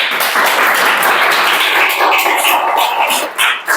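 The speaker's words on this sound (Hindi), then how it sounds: "चलिए आज के क्वेश्चन की शुरुआत करते हैं हम लोग धमाकेदार तालियों के साथ।" A dense, steady burst of applause from a crowd, many hands clapping continuously for a few seconds with no voices over it.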